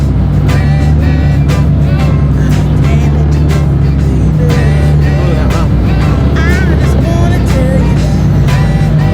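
A McLaren sports car drives slowly into an aircraft hangar with a loud, steady low engine drone and a constant rumble. A voice talks over it, with other voices or music faintly mixed in.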